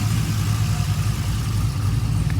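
A Mazda RX7 FD3S engine runs steadily at idle close by, a deep, even rumble that holds throughout with no talk over it.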